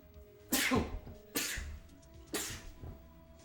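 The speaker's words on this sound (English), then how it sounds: "Oh, I sneezed." Three sharp sneezes in a row, each a sudden loud burst trailing off quickly, spaced about a second apart over low background hum.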